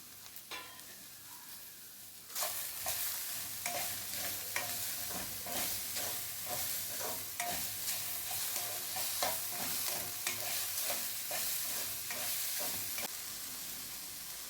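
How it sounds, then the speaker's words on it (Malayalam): Okra and chopped onion stir-fry in a pan with steady sizzling and a string of rhythmic spatula scrapes and taps, close and continuous for several seconds, with no talking. "വെണ്ടയ്ക്ക ഒന്ന് പകുതി വാടി വന്നതിന് ശേഷം അതിലേക്ക് ഒരു സവാള കൊത്തി അരിഞ്ഞതും കൂടി ചേർത്ത് കൊടുക്കാം."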